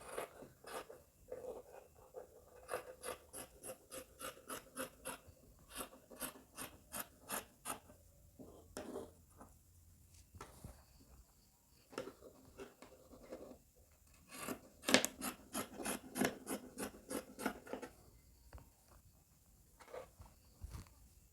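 Scissors cutting through fabric for a pair of shorts, repeated rhythmic snips in quick bursts with short pauses, close and fairly quiet, no talking.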